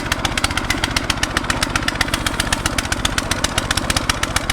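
A petrol garden tiller engine runs loudly and steadily at high revs, with a fast, even pulsing chug throughout and no other sounds.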